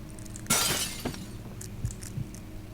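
A pane of glass smashes in Amnesia: The Dark Descent, one loud close crash that scatters into tinkling shards, followed by a few quieter knocks and debris settling.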